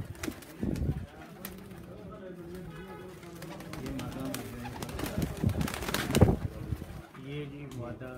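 Racing pigeons coo softly in a loft, low throaty calls repeating over background chatter, with someone talking nearby and occasional rustles and flutters of wings.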